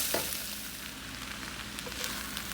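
Wood ear and shiitake mushrooms frying in a pan, a steady close sizzle with light crackling and a few stirring scrapes, no voices.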